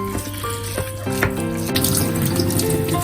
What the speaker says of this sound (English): Wash the chives before you cut them